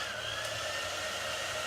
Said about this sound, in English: I am going to take my blow dryer